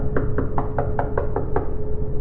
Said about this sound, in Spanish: tocó la puerta muy fuerte, de forma insistente